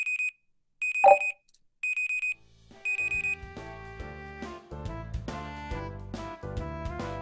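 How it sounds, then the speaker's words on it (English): Alarm clock beeping in four sharp, evenly spaced bursts, loud and close, then giving way to music. "Why did I turn on the alarm?"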